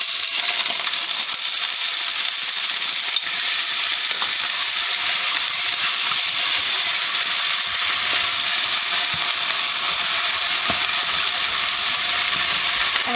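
Onion, shallot and green seasoning sizzle steadily in about a tablespoon of hot vegetable oil in a pot, a close, continuous crackling fry with faint stirring clicks and no speech.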